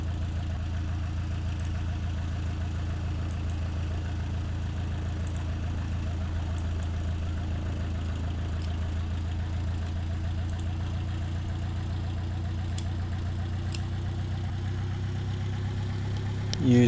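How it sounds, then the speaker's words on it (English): An aircraft engine idles in the Kerbal Space Program video game, giving a steady low hum with a faint rhythmic knock that keeps up throughout at an even, fairly quiet level. "Use my engine to slow me down."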